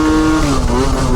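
A scooter fitted with a Stage 6 overrange kit revs hard as it climbs a hill, giving a loud, strained, high-pitched engine whine close by, the pitch sagging and then rising again.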